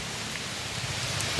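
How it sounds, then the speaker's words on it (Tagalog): Steady heavy rain pours down in a dense, unbroken hiss, with no voices or other sounds. "grabe yung ulan, oh. Walang katapos ang ulan."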